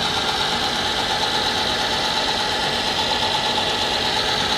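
Myford lathe spindle turning at about 435 RPM on an Altivar 11 drive, a constant, even machine hum and whine with no change in pitch, close and steady, no talking.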